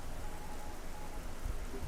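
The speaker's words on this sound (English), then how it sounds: "Oh, and it rains again." Steady rain hisses as a dense, even wash of noise in the video game Generation Zero, set in Sweden, with a faint low thump near the end and no speech.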